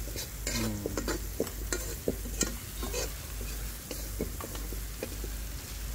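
Masala paste with garam masala and salt stirred and roasted in a hot pan, a steady sizzle with repeated scraping strokes of a spoon, close and continuous with no talk.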